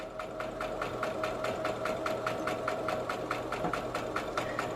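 A sewing machine back stitches a quarter-inch seam while piecing a Dresden plate quilt wall hanging, giving a steady, fast, even needle chatter close by over a continuous motor hum.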